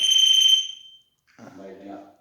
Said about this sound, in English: there's the alarm Scott's playing with.